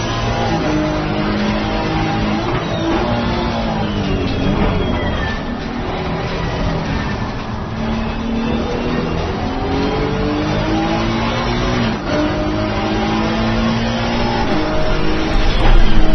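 Race cars in a racing video game roar around a track, engines revving and shifting through gears, with a Ferrari among the field, continuous loud motor drone and rising pitch sweeps, ending slightly louder.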